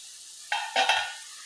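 Potatoes sautéing in a pan for sabudana khichdi: a couple of brief stirring scrapes and a soft sizzle, close and clear, with no talk.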